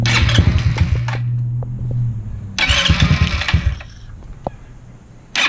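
The starter motor of a GY6 180cc scooter engine cranks it over in two whirring bursts, each about one to two seconds long, followed by a brief restart near the end, close and loud.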